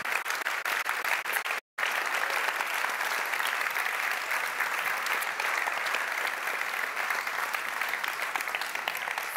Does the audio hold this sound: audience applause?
yes